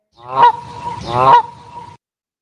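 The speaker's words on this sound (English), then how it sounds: "it's just like Canadian geese in a flock" Two loud Canada goose honks in quick succession, each a harsh nasal blare, close and clear with nothing else around.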